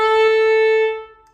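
A violin bowed with heavy pressure and weight into the string makes a crunchy, harsh tone: one loud sustained note with a scratchy catch near its start, fading away after about a second.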